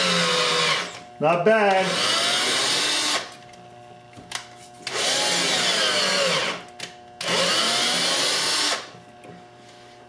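A cordless drill converted to run on mains power whirs in three sustained bursts with pauses between, spinning up and winding down; a person speaks briefly between runs.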